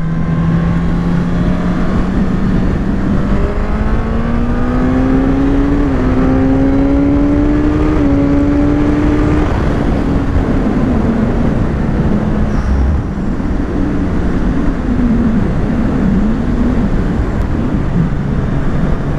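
Suzuki GSX-S 1000 motorcycle engine pulling hard through second and third gear, its rising whine climbing steadily to about 5000 rpm before shifting, loud and continuous with constant wind rush and no talk.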